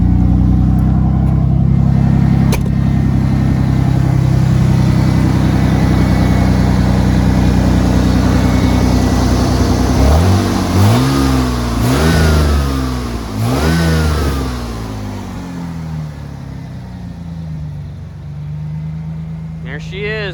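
A worn Ford F-150 pickup engine idles steadily up close, then blips through several sharp revs in a row before settling back to a rough idle, with someone talking over the running motor.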